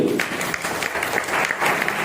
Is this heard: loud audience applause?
yes